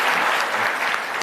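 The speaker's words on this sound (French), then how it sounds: "Applaudissez pour moi s'il vous plaît." Studio audience applauding on a French talk show, a steady dense wash of clapping hands heard close and loud throughout, with no voices over it.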